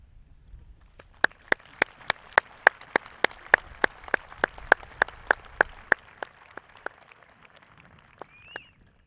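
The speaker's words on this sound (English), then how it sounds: "please stand up for a round of applause" Sharp, evenly spaced claps sound one after another at a high school graduation ceremony, about twenty in a steady rhythm, crisp and close, fading toward the end.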